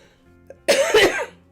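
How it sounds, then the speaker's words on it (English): A single dry, harsh cough, close and loud, preceded by a faint breath and quiet background. "that's that dry cough"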